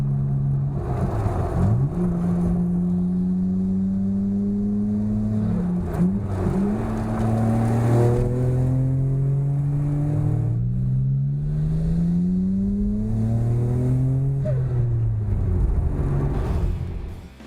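A Nissan Skyline R34 GT-R drives up the mountain road on Mount Tsukuba, its engine droning close and steady as it repeatedly revs up through the gears and drops back between shifts, with no talk.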